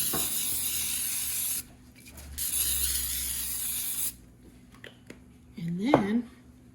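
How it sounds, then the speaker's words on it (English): Bursts of aerosol spray hiss steadily in two long passes, up close and loud, before a quiet stretch where a voice briefly speaks. "We spray."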